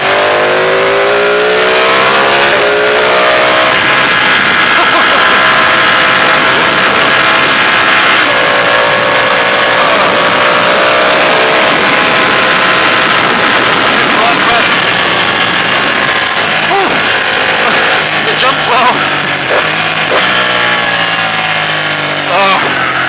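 A Ducati 899 Panigale motorcycle engine, ridden on a road with a quick shifter, revs loud and close through repeated rising pitch sweeps as it accelerates hard through upshifts, with a rider's brief exclamation over it.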